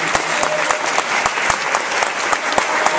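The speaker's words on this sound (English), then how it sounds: "I'd like to give them a round of applause for standing up." Steady, dense applause from an indoor audience at an award ceremony, a continuous patter of many clapping hands with no voices over it.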